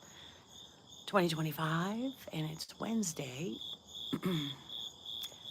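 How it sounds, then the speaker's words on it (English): Crickets chirp in a steady high, continuous trill on a dark September morning before dawn, staying quietly in the background while someone talks over them. "and the crickets are up"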